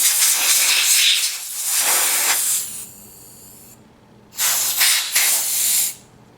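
Compressed air from an air compressor blasting caked dust out of an Xbox 360 console: loud hissing bursts in two long blasts separated by a quieter pause, close up with no talking.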